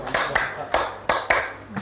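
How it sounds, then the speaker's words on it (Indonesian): A classroom group claps in a clap game, with six sharp, fairly evenly spaced hand claps, close and moderately loud, each with a brief ring. "Tapi kalau saya bilang tepuk fisika, tepuknya 6 kali"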